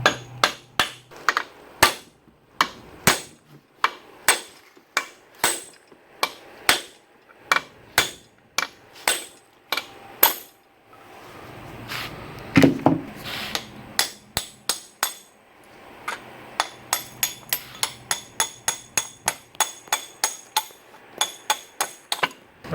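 Repeated metallic hammer blows on a soft steel drift drive a part out of a 1966 Ford Bronco's Dana 20 transfer case, evenly spaced at first, pausing briefly amid a scraping sound, then resuming as a faster run of strikes.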